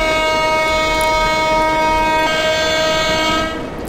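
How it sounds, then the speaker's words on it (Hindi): Deccan Express train horn sounding in the Western Ghats, a loud, steady multi-tone blast held for over three seconds before cutting off, with running train rumble beneath. "गाइस हॉर्न साउंड कौन सा वाला आपको सबसे ज़्यादा पसंद आ रहा है"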